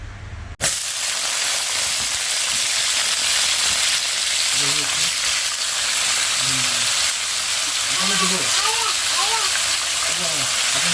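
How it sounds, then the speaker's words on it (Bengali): Sliced potatoes frying with onion and chilli in a home kitchen, a steady loud sizzle running throughout after a sharp start, with occasional stirring and a voice talking intermittently over it. "পেঁয়াজ আর লঙ্কাটা একটু ভালো করে ভেজে নিয়ে তারপরে আলুটা কেটে ধুয়ে এই যে দিয়ে দিলাম"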